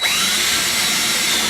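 Drill on hammer setting driving a screw into wood during a finca renovation in Spain, one continuous loud close whir with a high whine throughout.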